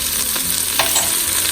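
Garlic and onions sauteing in an Instant Pot for beef stew, a brisk, close sizzle with faint scraping from stirring and no voices.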